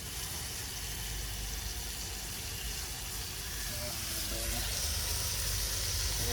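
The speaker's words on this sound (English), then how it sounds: "Oh, that's a perfect sizzle." Lobster sizzles in a pan outdoors, giving a steady broadband hiss that holds at a constant level throughout, with faint voices underneath.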